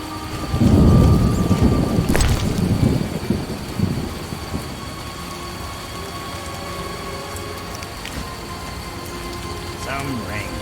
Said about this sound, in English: Some rain.